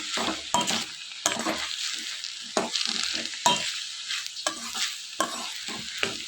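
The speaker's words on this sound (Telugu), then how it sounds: "ఇదంతా కూడా బాగా కలుపుకొని ఫ్రై అయ్యేంత వరకు ఇదంతా కూడా బాగా వేయించుకోవాలి" Malabar spinach sizzles as it is stirred and fried in a pan, with a spatula scraping the metal again and again in quick rhythmic strokes over a steady close frying hiss.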